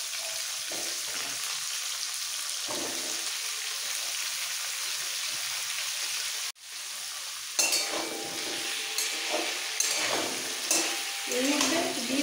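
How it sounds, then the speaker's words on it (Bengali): Papaya and drumstick pieces sizzling and frying in hot oil in a pan, a steady crackling hiss throughout, with a sharp clatter midway as the vegetables drop in and louder stirring and spatter afterward; no talking. "এইবার এই তেলের মধ্যে দিয়ে দিতে হবে পেঁপে আর সজনে ডাঁটা"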